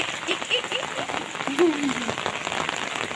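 Rain patters steadily on a surface while voices talk and call out nearby.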